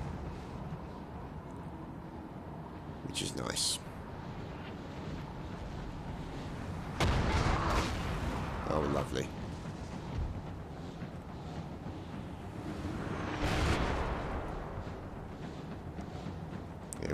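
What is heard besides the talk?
cannons firing in video game Napoleon: Total War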